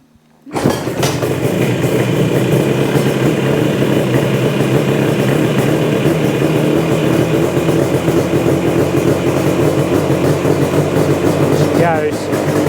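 A Yamaha RD400 motorcycle engine that has sat unused for a while fires up and settles into a loud, steady running note that holds for the rest of the clip.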